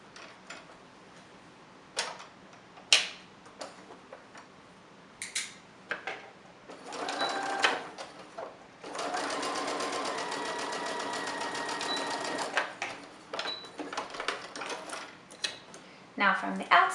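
A home sewing machine stitches a dart in a fabric face mask, a steady mechanical whirr for several seconds after scattered clicks and handling noises, with a voice speaking at times.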